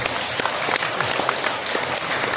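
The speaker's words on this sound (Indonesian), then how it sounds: "Mohon beri tepuk tangan ke Kadis Pendes." Audience applause at a regional government briefing in Indonesia, a dense, steady patter of many hands clapping at moderate loudness for about two seconds, with no clear talk over it.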